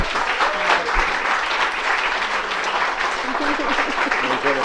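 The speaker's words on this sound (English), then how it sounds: "everyone who feels that Dr. Paul has made a difference in your life, please stand up and show him your love and appreciation through your applause" Standing audience applause for a doctor at an award presentation, loud dense clapping that holds steady throughout, with voices murmuring and calling out beneath it.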